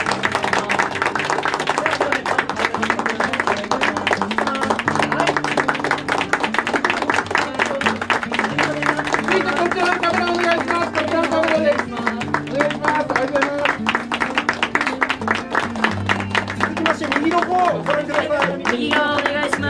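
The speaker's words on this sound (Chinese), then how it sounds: "そのまま拍手でお願いします。" An audience claps steadily at a political ceremony of Japan's Liberal Democratic Party, a sustained dense patter of many hands, with a voice speaking over it throughout.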